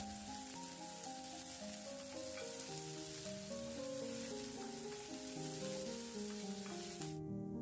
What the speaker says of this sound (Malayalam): ഇനി സവോളയൊക്കെ ഒന്ന് ഗോൾഡൻ കളർ ആവുന്നവരെ ഒന്ന് നമുക്ക് വഴറ്റി കൊടുക്കാം.